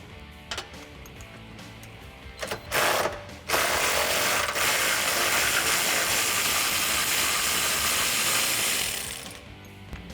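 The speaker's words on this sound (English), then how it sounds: "I'm going to use a 16mm socket to remove that." A 16mm socket ratchet working bracket bolts loose on a Jeep Wrangler JL frame during a rear bumper install, clicking briefly and then running as a steady, loud mechanical whir for several seconds.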